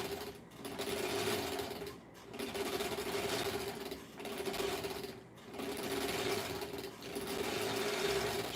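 A sewing machine stitches fabric close to the edge, running in steady whirring passes broken by short pauses as it goes forward, backs up a few stitches and moves forward again, close and moderately loud with no talking.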